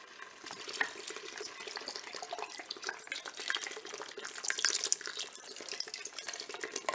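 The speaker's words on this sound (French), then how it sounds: "Je vais verser la bière." Beer poured into a Cookeo multicooker pot makes a steady, fizzy liquid splashing and trickling sound, moderately quiet and continuous throughout, with no talking.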